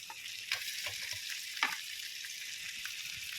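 Crab pieces being stirred and fried in a pan for butter garlic crab, a continuous hiss of sizzling with occasional sharp scraping clicks of the utensil, close and unaccompanied by talk.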